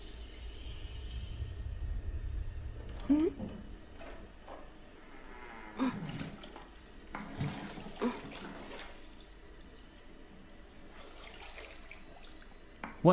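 Water runs steadily for the first few seconds in the horror video game The Devil In Me, low and continuous, then gives way to scattered clunks, knocks and quiet ambient tones with no talk.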